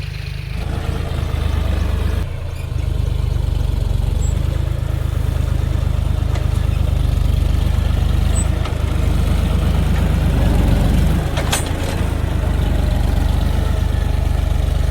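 A farm tractor engine runs at a steady idle, a loud, deep continuous rumble close by with a few brief clanks and no talking.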